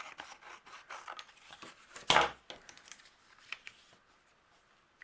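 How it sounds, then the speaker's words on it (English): Scissors snip off excess overhanging paper from a greeting card base: one sharp, crisp cut stands out among quiet rustling and handling noises, close and alone. "so I'll trim this off with my scissors"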